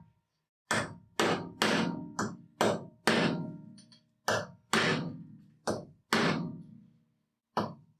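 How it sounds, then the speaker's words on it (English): About a dozen sharp, ringing hammer blows strike a high-tensile socket head bolt resting on an anvil, each loud and close with a short metallic decay, falling in irregular groups with brief pauses between them. "Let's just give that a smack on the anvil at the back there."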